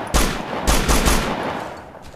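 Loud, close bursts of automatic gunfire in the video game Operation Flashpoint: Dragon Rising, three or four sharp shots in quick succession followed by a ringing decay.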